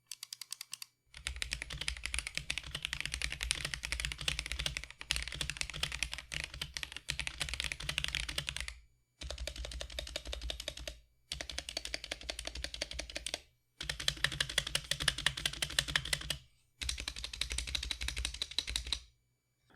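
Someone types in steady bursts on a modded Akko ACR 98 Mini, a stacked acrylic mechanical keyboard with rattly stabilizers, giving close, crisp clacking in six long runs with brief pauses between them.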